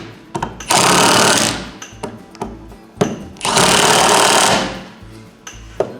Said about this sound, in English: I just take the impact and do